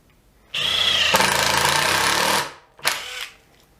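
A Makita DT111D 12-volt impact driver runs in a loud, rapid hammering burst for about two seconds, cuts off, then gives a second short burst after a brief pause.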